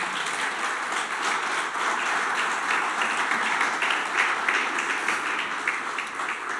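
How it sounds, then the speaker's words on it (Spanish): Steady, dense applause from a church congregation, sustained and fairly loud throughout with no voices standing out. "Dale un aplauso al Señor por eso."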